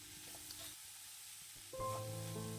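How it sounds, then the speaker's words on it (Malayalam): Onions and curry leaves sautéing uncovered in a pan for bitter gourd thoran, a soft steady sizzle with light stirring that turns into a louder, brighter frying hiss partway through, no voices. "കുറച്ച് കറിവേപ്പിലൂടെ ചേർത്തിട്ട് ഇതുപോലെ ഇളക്കി ഓപ്പണായിട്ട് തന്നെ ഇട്ട് വഴറ്റിയെടുക്കുക"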